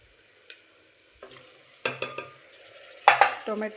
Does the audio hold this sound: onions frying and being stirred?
yes